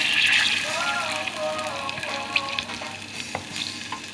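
Chopped onions sizzle and fry steadily in melted butter for a creamy peppercorn beef dish, a bright continuous crackle with a few stirring scrapes and taps, close and fairly loud, with no talk.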